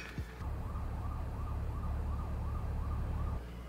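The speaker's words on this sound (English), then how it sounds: "He's in an ambulance." An ambulance siren wails in a steady, repeating rise-and-fall pattern, loud and close, over a low engine rumble.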